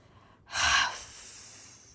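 A storyteller's voice huffs and puffs in imitation of a strong wind blowing, one loud breathy gust after a short silence, then a softer trailing exhale.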